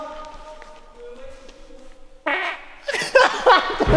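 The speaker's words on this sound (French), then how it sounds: "Je vais péter." A person lets out a fart, loud and close, with a sustained buzzing burst followed by a rougher, sputtering stretch, over faint background voices.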